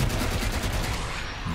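Gunfire in the post-apocalyptic video game Wasteland 3, a rapid burst of repeated shots in quick succession, loud and close, with no talk over it.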